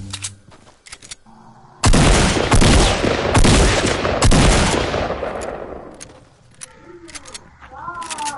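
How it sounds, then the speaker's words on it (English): Heavy gunfire in a PS4 video game bursts loudly after a quieter start, a dense, sustained barrage that tapers off, followed by scattered sharp sounds and voices nearby. "Guys, he's shooting at me."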